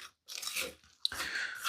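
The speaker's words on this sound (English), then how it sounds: "you can crunch up some more of those graham crackers if they weren't fine enough" Graham crackers being crushed for a cheesecake crust, heard as two bursts of dry crunching with a sharp crack partway through, close and fairly loud, with no talking.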